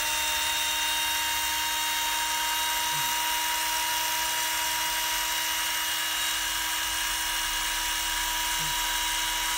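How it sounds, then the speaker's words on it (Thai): A Total TDLI 1221 12V cordless drill runs steadily, giving a loud, continuous high motor whine close by that holds an even pitch for the whole stretch, with no voices. "เดี๋ยวเราจะใส่แบตเตอรี่ให้ดูนะครับเพื่อฟังเสียงของเครื่องนะครับ"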